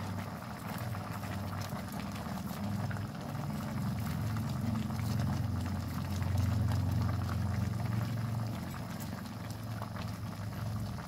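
A pot of jackfruit stew with dried fish boils hard at close range, a steady, low bubbling roar that holds evenly without a break.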